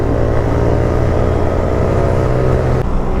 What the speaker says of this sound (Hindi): इनकी बाइक में लगा एग्जॉस्ट।